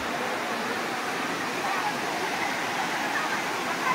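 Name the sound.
waterfall near the path down to Tanawan Falls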